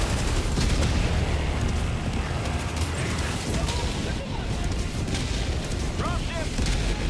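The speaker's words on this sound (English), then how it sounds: "Ang galing yung rocket na yun." Rocket blasts and gunfire rage in Helldivers 2, a dense, loud wall of booming explosions and rumbling impacts that keeps going throughout, with voices shouting faintly beneath it.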